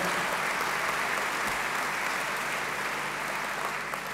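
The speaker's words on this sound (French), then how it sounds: "Vous pouvez encore l'applaudir" Applause from an audience at a political party president's speech, a steady sustained wash of many hands clapping, dense and even in level from start to finish.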